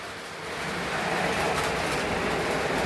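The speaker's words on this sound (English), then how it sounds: "Why don't we pull the train around here, get that thing on the track" A Menards model train runs along its track, a steady close rumble that swells slightly in the first half second and then holds even.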